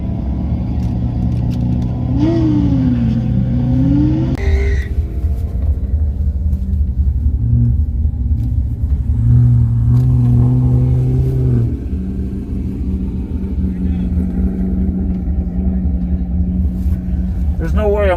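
Drag race engines rev at a dragstrip, including a stretched Hayabusa motorcycle, with loud rumbling and rising and falling revs. The roar is close and sustained, with gear changes and overlapping motor tones.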